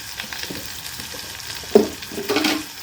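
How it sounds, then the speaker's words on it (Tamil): Onion, green chili, garlic and curry leaves sauté in a pan with a continuous sizzle, punctuated by a couple of stirring scrapes and louder bursts near the end. "இப்போ இது நல்லா வதங்கட்டும்."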